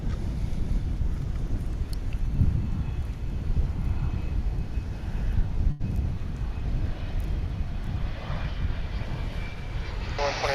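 Aircraft engine noise at DFW International Airport, a steady broadband roar that holds for the full length with some wind buffeting on the microphone, heard from a distance.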